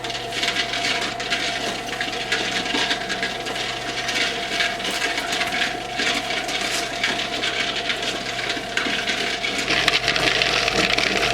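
Rocks tumbling in a rock tumbler: a continuous dense clatter and grinding rattle over a steady motor hum, loud and unbroken throughout.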